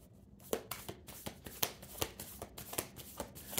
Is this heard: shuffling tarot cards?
yes